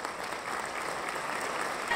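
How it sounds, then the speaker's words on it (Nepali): Audience applause at a dance competition premiere, a steady, dense wash of clapping from a crowd that holds at an even level and swells slightly at the end. "ताली त केविकाजीलाई झन् बढी चाहियो"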